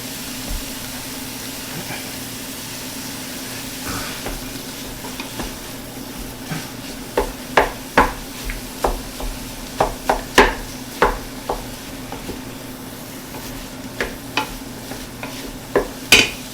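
Pork sautéing in a pan for a beef bolognese, a low steady sizzle under repeated sharp scrapes and clanks of stirring, with no talking.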